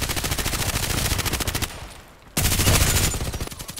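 Rapid automatic gunfire in the online shooter Contract Wars, loud dense bursts of repeated shots, a short pause near the middle, then another sustained burst that tapers toward the end.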